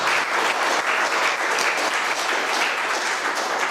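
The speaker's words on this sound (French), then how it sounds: "je propose qu'on applaudisse Julien." Steady, enthusiastic applause from an audience fills the whole stretch, dense clapping at a constant level with no talking.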